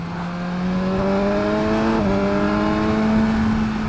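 A 2017 BMW S1000XR motorcycle accelerating hard to overtake, its engine note climbing steadily through a gear change into a loud, sustained high-revving drone under wind noise, heard close from the rider's position.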